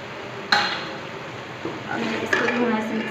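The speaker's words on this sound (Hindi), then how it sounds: "इसको भी मैं ऐसे मिक्स करती हूँ।" Chicken fried rice is stirred in a pan with a metal spoon, a few sharp clinks and scrapes against the pan over a light sizzle, close and clear.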